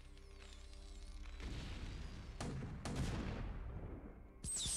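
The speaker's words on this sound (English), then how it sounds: "Even the sound of a siege tank attacking when it's not in siege mode is just great" Siege tank in unsiegeded tank mode firing during a scrappy StarCraft: Brood War Remastered battle, a series of loud booming cannon blasts and crashes over a dense wash of game noise.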